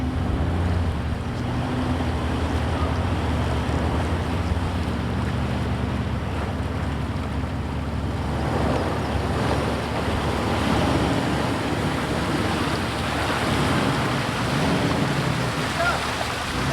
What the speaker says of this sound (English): we're going to do a water crossing through the Pit Junior